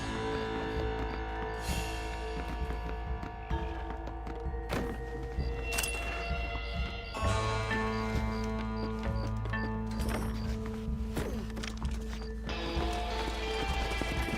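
Horses galloping in the Red Dead Redemption video game, a steady clip-clop of hooves mixed with game music and ambient tones, a faint voice briefly audible.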